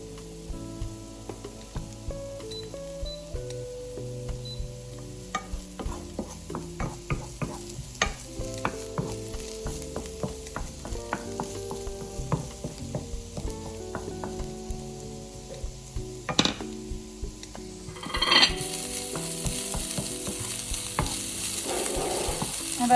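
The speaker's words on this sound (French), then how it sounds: "Ensuite, on ajoutera la moitié des oignons de printemps, juste la moitié." Spring onions sizzle steadily in a hot pan while being stirred for a dried-bean and tomato mijoté, with close scraping stir sounds throughout and a louder burst of frying near the end.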